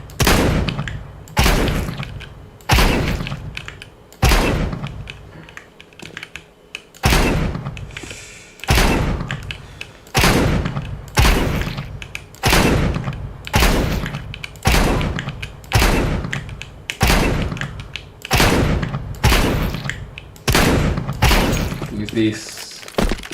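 Judge shotgun firing in the shooter game Valorant, a long run of loud, heavy blasts at a fairly regular rhythm, roughly a dozen booming shots with short gaps between them, no voices.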